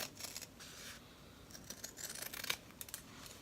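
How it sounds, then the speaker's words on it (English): Large scissors cutting around an embroidered fabric banner, faint close snipping and rustling of blades through cloth. "I'm going to take this big pair just to cut it."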